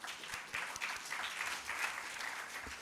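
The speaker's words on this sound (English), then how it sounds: "give him a huge round of applause, and please welcome Mr. Hamid Mehmood on stage" An audience at The Innovation Hub event at the University of Lahore claps steadily to welcome a speaker on stage, dense even applause of moderate loudness throughout.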